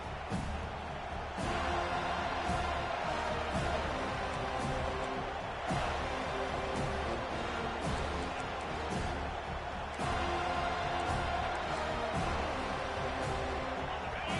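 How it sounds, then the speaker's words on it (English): A college football stadium crowd roars in a dense, steady wall of noise that swells and eases in waves, with a commentator talking over it. "This crowd trying to show them what it's going to be like all day in this house."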